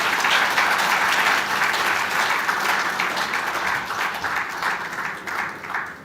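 Audience applause at a naval aviation seminar: loud, sustained clapping from a large hall crowd that thins slightly toward the end.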